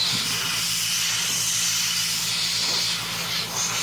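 An airbrush sprays semi-transparent paint onto a He-Man figure, giving a steady, continuous airy hiss with a faint low hum underneath, close and unbroken throughout.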